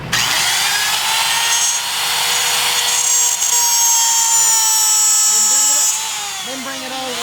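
A wood router plunges into a bridge template jig, giving a loud steady high-pitched whine that runs nearly the whole time, easing slightly near the end.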